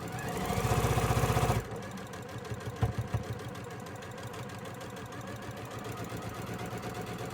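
A sewing machine with a quarter-inch foot stitches a quilt seam, running loud and steady for about a second and a half, then continuing as a fainter, even mechanical whir with a few brief knocks.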